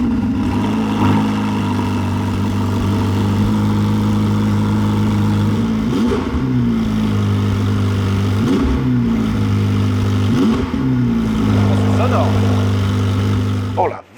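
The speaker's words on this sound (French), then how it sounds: "clairement dès le démarreur, et puis le son, c'est un V8 Ferrari biturbo." A Ferrari twin-turbo V8 idles with a steady, deep hum, then gives three sharp revs that rise and quickly fall back to idle. The engine stays loud and close throughout.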